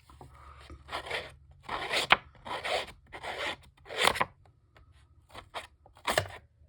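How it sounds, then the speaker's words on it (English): Scissors snipping through paper for a shabby chic, Paris-inspired journal card, a run of close, crisp cuts in uneven bursts with short pauses between them and no talking. "I'm going to use my scissors on this one, I think."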